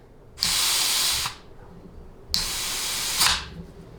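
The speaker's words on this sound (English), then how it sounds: "all that air is because this nozzle is like leaking air real bad" Compressed air hisses hard in two bursts, each about a second long, from a badly leaking nozzle while a 4L80E transmission's forward planet is air-tested during a performance rebuild; a quiet shop hum sits underneath.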